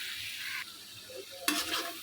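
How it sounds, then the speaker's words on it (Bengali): Prawns stir-fried in a spicy masala for a shrimp curry with ridge gourd and potato, a steady close sizzle broken by a couple of brief bursts of spatula scraping against the pan. "যে চিংড়ি মাছগুলোকে দিয়ে আমি একটু কষিয়ে নেব"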